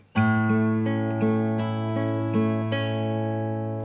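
Fingerpicked acoustic guitar plays a pattern, steady plucked notes over sustained bass tones, clear and close with no voices.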